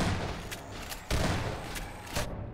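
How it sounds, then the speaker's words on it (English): Shotgun blasts in the video game Half-Life 2, several loud booming reports in quick succession over dense, rumbling gunfire and chaotic game noise. "Shotgun."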